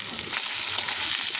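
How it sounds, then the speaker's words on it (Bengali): Tomato paste sizzles steadily in a hot pan, a close, even frying hiss with faint stirring underneath and no voices. "এবারে দিছি টমেটো"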